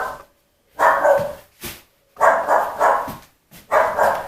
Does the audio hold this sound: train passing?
no